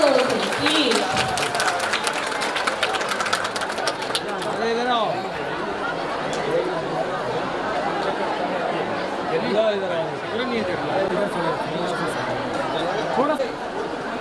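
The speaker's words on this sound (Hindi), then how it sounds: "इतनी महफिल में तो तालियों की आवाज गूंज जाना चाहिए।" At an annual function, an audience claps in a burst at first, then loud crowd chatter and talking take over while the applause fades into the background.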